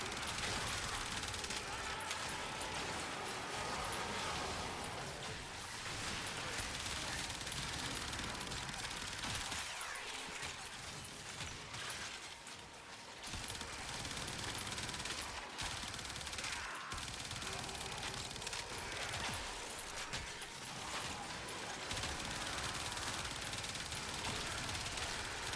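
Automatic Ambassador rifle in Warframe firing in long, dense sustained bursts with brief gaps, loud and close, continuous gunfire dominating throughout.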